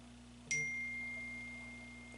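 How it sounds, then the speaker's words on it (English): A phone notification gives one clear ding, a bright tone that rings briefly and fades over a steady electrical hum from a workbench. "my phone keeps going off"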